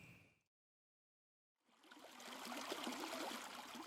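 The Moorabool River flowing steadily, a soft continuous rush and trickle of water heard close by after a brief stretch of silence at the start.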